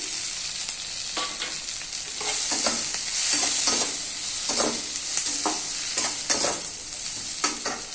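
Chopped chillies are stir-fried in a hot pan, with a bright sizzle broken up by repeated scraping and tossing strokes of a spatula. No one speaks.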